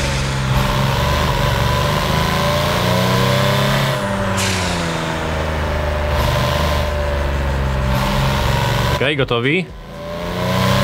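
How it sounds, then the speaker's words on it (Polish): A drift car in the racing game Japanese Drift Master revs steadily from low engine speed, a loud continuous droning roar with shifting pitch and a brief cut near the end, with someone speaking over it. "Od niskich obrotów jedźmy i wsłuchajmy się w brzmienie auta."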